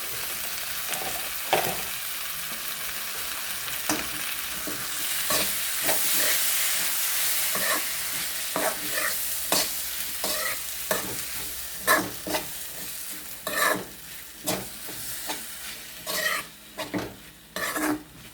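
Grated mango frying in a pan while a spoon stirs it: a steady hiss and sizzle, with repeated scraping strokes against the pan that grow sharper and more frequent toward the end.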